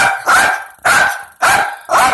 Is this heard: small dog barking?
yes